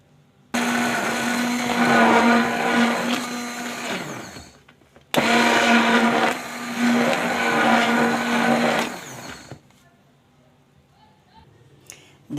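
A kitchen blender mixes cake batter of milk, vanilla and other ingredients in two loud, steady whirring runs of about four seconds each, separated by a brief pause, with quiet room sound afterward.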